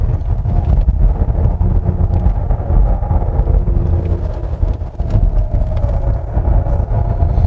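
A 2023 Hyundai Palisade 3.8 front-wheel drive on a winding mountain road, heard as a steady low engine drone with road rumble and wind buffeting from inside the cabin, with no talking.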